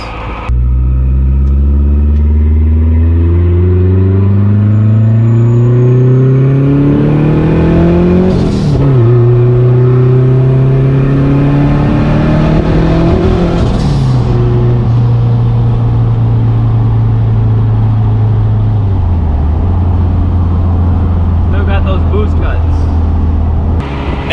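A boosted Toyota pickup truck's engine revs hard through several gears, each rising pitch sweep broken by a shift, loud and close from inside the cab with a persistent road rumble underneath.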